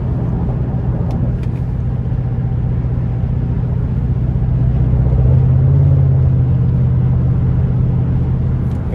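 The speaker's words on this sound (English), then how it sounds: "just a great feel from this naturally aspirated V8" A 2012 Chevrolet Camaro 2SS convertible's naturally aspirated V8 holds a loud, steady low rumble from inside the cabin, swelling slightly as it pulls harder midway with no voices over it.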